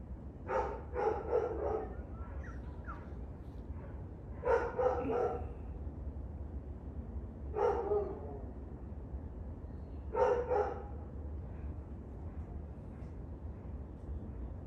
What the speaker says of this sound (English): Nice juxtaposition here with the barking dog and the bird.